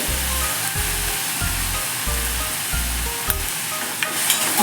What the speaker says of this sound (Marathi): आता हे एक दोन सेकंद छान परतून घ्यायचे आहे तेलावरती मिरची